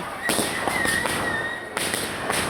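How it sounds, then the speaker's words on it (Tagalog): Aerial bombshells bursting during a grand Christmas park opening fireworks display at the Apayao Provincial Capitol, a dense run of loud booming cracks layered over crackle and a thin rising whistle, with excited shouting in the crowd. "Yan na yung bombshell, oh!"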